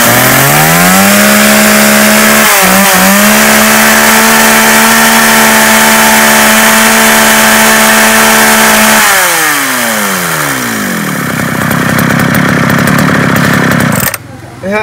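A used Japanese CN10 chainsaw engine runs close and loud at a steady idle buzz, then revs and winds down in pitch before a final sharp rasp near the end.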